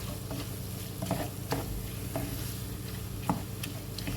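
Onions sautéing in a pan: a low, steady sizzle with soft scraping stirs and occasional small pops and clicks, close and quiet, with no voices.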